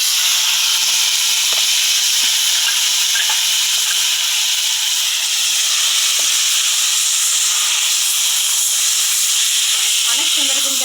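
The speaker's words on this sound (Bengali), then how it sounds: "এখন আমি শাকগুলো দিয়ে দেবো।" Leafy greens hit hot oil already flavored with dried chilies and fried onion, giving a loud, steady sizzling hiss that carries on without a break, with a few faint stirring clicks underneath.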